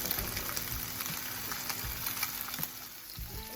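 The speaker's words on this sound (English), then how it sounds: "I like to brown my tilapia because it gives you a harder texture on the outside" Tilapia fillets browning in a hot pan, a steady soft sizzle and crackle of frying oil with faint pops, fairly quiet and close, no voices.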